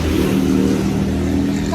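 Droning engine of a bus carrying standing passengers in Mexico, a steady low hum with a slight revving swell, loud and close throughout.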